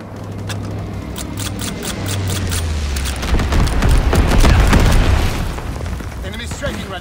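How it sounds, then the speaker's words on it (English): Incendiary bombs exploding in the Call of Duty WWII video game, a rolling series of deep booms and crackling blasts that swell to a loud peak midway and then ease, under game radio chatter. "Enemy bomber approaching. Incendiary bombs incoming."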